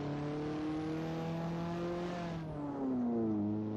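A racing car engine in Assetto Corsa Ultimate Edition on PlayStation 4 holds a loud, steady high rev, then drops pitch briefly as it shifts and climbs again, close and continuous throughout.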